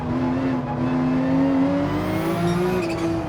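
Race car engine in a racing video game at the Nürburgring, driven in manual with paddle shifts, holds a loud steady high-revving drone with rising pitch through a gear, continuous and close with no talk.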